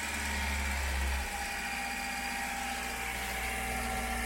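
VW Gol engine running steadily at around 2000 RPM, with a suspected oil-pressure fault, a constant close mechanical drone with a slight drop in low-end rumble early on, no voices.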